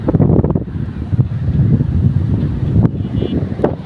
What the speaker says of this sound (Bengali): তো অনেক ভালো লাগতেছে, প্রচুর বাতাস আছে